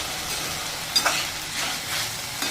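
Okra stir-fry sizzling in a pan over a very low gas flame, a steady hiss with a couple of sharp spatula clinks against the pan, no talking.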